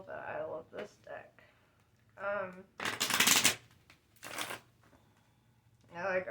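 Oracle cards being shuffled in quick, papery riffling bursts, a few short rustles and two longer flurries, close up, with someone talking softly between them.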